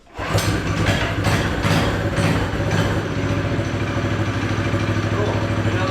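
An off-road mini quad engine on choke starts almost at once and settles into a loud, close, rough idle with a steady throbbing rumble and some clatter that keeps running to the end.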